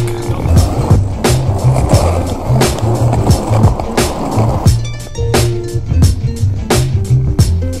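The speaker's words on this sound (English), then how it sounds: "just penny boarding around the car park" Penny board skateboard wheels rolling over a car park surface, a loud, close, continuous rumble punctuated by sharp clacks and bumps as the board crosses joints and cracks, with no talking.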